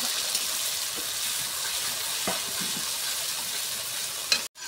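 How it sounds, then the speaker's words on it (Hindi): Ground masala paste fries in a kadhai with a steady, dense sizzle and occasional soft stirring scrapes, close and continuous, ending in a brief knock. "हम लोग कढ़ाई फिर अब इसमें जो मसाला हम लोग पीसे थे दोस्तों, मसाला डाल देंगे"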